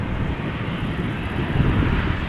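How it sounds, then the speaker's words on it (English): KLM Boeing 737 landing at Amsterdam Schiphol, a steady loud jet engine roar with broadband rumble and wind noise throughout, no talk. "This is another KLM Boeing 737"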